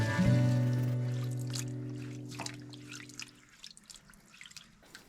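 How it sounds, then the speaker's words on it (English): Cold water drips and trickles as nettles are washed by hand, with a low tonal hum fading over the first few seconds, then scattered close, light drips and splashes with no talking. "So I washed these nettles with my bare hands in cold water"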